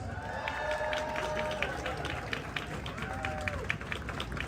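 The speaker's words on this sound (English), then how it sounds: "Give a round of applause." Steady applause and cheering from spectators lining a St Patrick's Day parade street in Alexandria, Virginia, as a pipe band with its drum major passes, with crowd noise and a voice over it.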